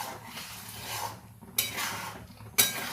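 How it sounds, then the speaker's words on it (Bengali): Custard thickening in a pan is stirred steadily with a utensil, giving a soft scraping swish with two sharper clinks against the metal, no voices. "সমানে নাড়তে থাকবো, নিচে যাতে না লেগে যায়।"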